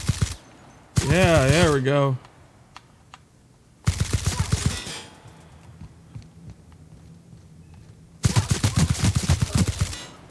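Gunfire from a different gun in the video game The Outer Worlds, loud broadband bursts of shots in three clusters separated by quieter gaps, with someone speaking briefly between them.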